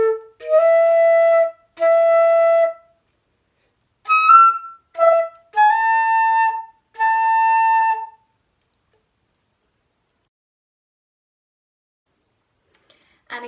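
A flute plays a short melodic passage with grace notes, clear sustained tones in several phrases with brief gaps, played alone with no talking, then a few seconds of silence.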